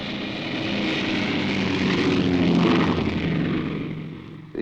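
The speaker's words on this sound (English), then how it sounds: "The final choice was the Junkers G-31, made in Germany." Propeller engine drone of a Junkers G-31, a large German airliner, heard as a steady, loud, broadband roar that swells slightly and then fades away.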